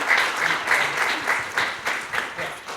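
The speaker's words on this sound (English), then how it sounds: "A big round of applause for Jenn Kidd" Audience applause at an evening community dance event in Akron, clapping swelling and dipping in uneven waves over the whole stretch, close and fairly loud.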